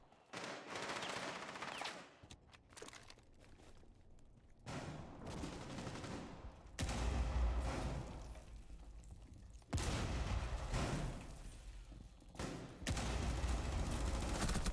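Sustained automatic gunfire from the tactical shooter game Rainbow Six Siege, loud dense bursts that rise and fall with short lulls and sharp restarts, with no voices over it.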